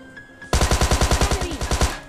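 Rapid automatic gunfire from the video game PUBG Mobile Lite: after a quiet lead-in, about sixteen loud, evenly spaced shots ring out in one fast, unbroken burst.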